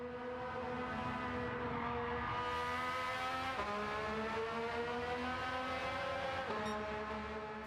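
A race car's engine screams at high revs as it crosses the line in the Gran Turismo 7 video game, a loud sustained tone rising steadily with two quick shifts breaking the pitch, with no talk.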